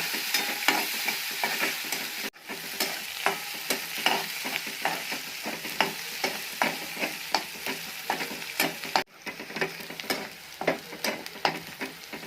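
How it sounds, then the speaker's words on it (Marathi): Crushed garlic, green chillies and onion are frying in a pan, with a steady loud sizzle and rhythmic scraping strokes of a spatula repeating every half second or so. A couple of brief pauses break the stirring, and no one speaks. "व्यवस्थित मिरच्या व कांदा लाल होऊन द्यायचा कांदा हिरवी मिरची आपली व्यवस्थित लाल झाली"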